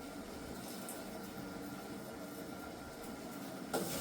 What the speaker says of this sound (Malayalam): അപ്പോൾ നന്നായിട്ട് തിളച്ചിട്ടുണ്ട്.